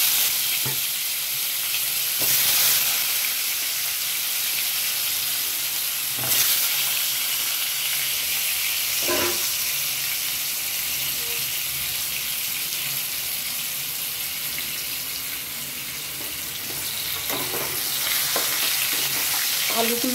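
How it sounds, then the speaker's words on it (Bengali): Potatoes coated in salt and turmeric fry in hot oil, giving a steady close hiss and sizzle throughout with a few light scrapes of stirring. "আলুগুলোতে নুন হলুদ মাখিয়ে রেখেছিলাম আমি, এগুলো সাঁতলিয়ে নেব।"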